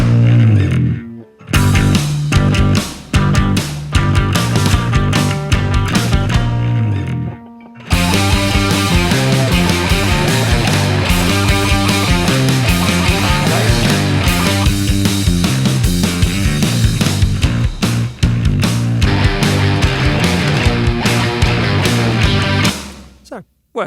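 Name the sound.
distorted bass guitar playing with drums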